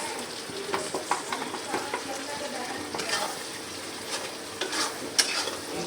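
Masala spices fry and are stirred in oil in a home kitchen pan as potatoes cook. A steady sizzle runs throughout, with spoon scrapes and light clinks against the pan.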